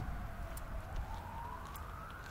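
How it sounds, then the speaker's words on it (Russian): An ambulance siren wailing through a residential neighbourhood, its tone drifting slowly upward over steady street and traffic noise, moderately distant. "Воет сирена."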